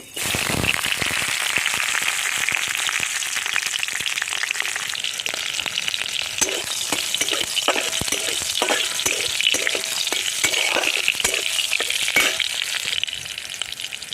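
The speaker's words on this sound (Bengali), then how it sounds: "কড়াইয়ের তেল গরম হয়ে গেছে তিনটে কাঁচা লঙ্কা আর কালো জিরে ফোড়ন দিয়ে দেব" Green chillies and nigella seeds sizzle loudly in hot oil in a kadai, with sharp crackles and pops spattering continuously over a bright, hissing fry.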